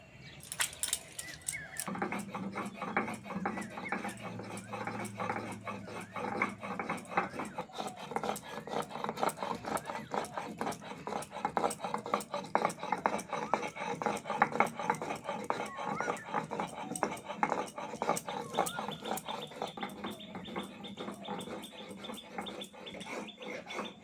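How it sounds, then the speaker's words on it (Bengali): Cumin seeds are ground on a stone sil-nora slab in a village kitchen, making rapid, steady scraping strokes close by. Faint bird chirps sound in the background. "এবার জিরেটা বেটে নেবো"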